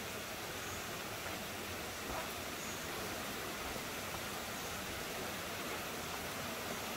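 A shallow, cool river runs at a campsite in Padang Rengas, Kuala Kangsar, Perak, giving a steady, even rush of flowing water that neither rises nor fades, with no voices over it.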